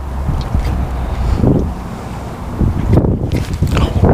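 Wind picks up outdoors during a fishing outing, buffeting the microphone with low rumbling gusts that swell around the middle and again near the end, with faint muffled voice sounds underneath.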